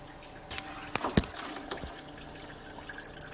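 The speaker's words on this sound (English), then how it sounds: "Pouring out pretty good." Antifreeze coolant from the engine of a 1996–1999 Buick LeSabre with a GM 3800 Series II, splashing into a margarine container below during a water pump replacement, heard as scattered drips and one sharp splash, close and unaccompanied.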